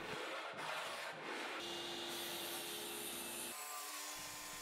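Trimming a plywood cabinet support for a workbench: a close, faint rubbing scrape of a tool on plywood in a few short strokes, followed by a brief steadier grinding tone.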